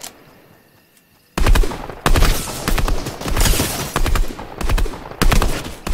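Gunfire in the Fortnite video game during a squads match: a quiet lull, then loud bursts of rapid automatic shots in clusters with short gaps, close and harsh.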